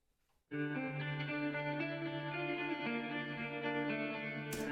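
A clean electric guitar riff from a metal track, dry with no shimmer effect, rings out in sustained, layered notes from a sudden start, loud and steady throughout.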